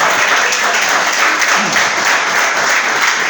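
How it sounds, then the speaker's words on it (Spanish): Steady, dense applause from a large church congregation fills the whole stretch, loud and continuous with no voices standing out. "Denle otro aplauso a Él."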